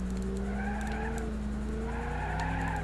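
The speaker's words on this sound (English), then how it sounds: "So they changed the tire screeching sound effects." Tires screech in a sustained skidding squeal within the BeamNG Drive driving game, with car engine noise running underneath, wavering tones rising and falling continuously for a few seconds.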